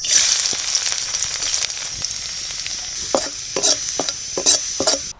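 Garlic pieces frying in oil in an outdoor village kitchen while making honey chicken, a steady bright sizzle throughout, with several sharp scraping stirs of a spatula in the second half.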